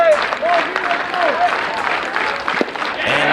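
Crowd at a baseball game at Royal Athletic Park cheers and applauds on a summer night, clapping and whoops filling the stands while a public address announcer talks over it and an organ plays.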